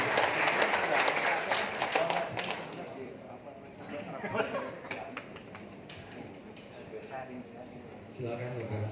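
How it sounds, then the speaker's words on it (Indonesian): Applause from a talk show audience, with dense clapping that is loud at first and gradually thins out, while a voice speaks over it. "Bisa tepuk tangan dulu Pak. Tepuk tangannya yang meriah."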